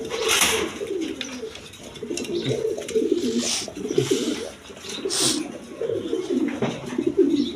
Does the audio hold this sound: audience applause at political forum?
no